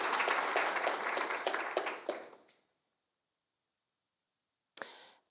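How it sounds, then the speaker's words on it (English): Applause for panel speakers at a Nordic welfare forum, a dense crowd clapping steadily for about two and a half seconds before fading out, then silence and a brief burst of noise near the end. "So give them an applause to Jonas, Lauri Salo, Grete"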